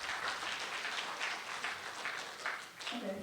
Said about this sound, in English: Let's give Evani another round of applause